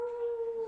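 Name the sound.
person imitating a wolf howl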